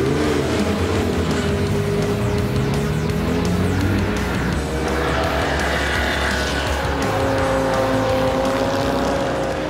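Classic race cars including Jaguars, Austin Healeys and Porsches roar loudly and continuously around the Spa circuit, engines revving and shifting up with sustained rising whines, close by and dense with overlapping cars.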